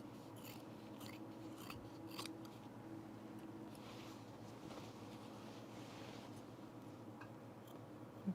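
Scissors trim corduroy fabric while an unlined auburn blazer is sewn: faint, soft snipping and ticking cuts scattered over a quiet, steady background.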